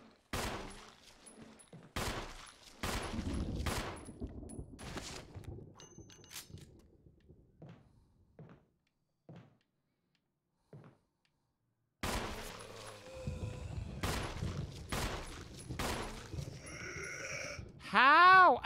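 Metallic clatter of a magazine dropped onto the floor in the video game Resident Evil Remastered, heard among sharp gunshot bursts, clangs and bleating-like game effects, with quiet gaps in between.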